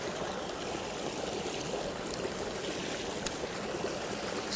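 Water sprayed into a body of water gives a steady, close wash of splashing and trickling that holds even throughout, with no voices.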